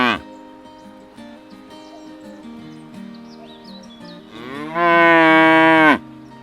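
Cattle moo several times in a row, the calls loud and close, with the final long, drawn-out low bellow the strongest, set against a quiet farm background.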